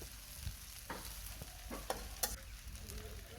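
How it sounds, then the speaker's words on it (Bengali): Vegetable noodles being stirred with fried eggs added in a pan, giving a low steady sizzle under repeated spatula scrapes and light taps, fairly quiet and close. "মিশানো হয়ে গেলে ভেজে রাখা ডিমগুলো দিয়ে দিচ্ছি।"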